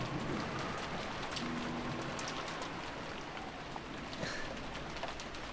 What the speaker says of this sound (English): there was no reply, only the howl of the wind and the rain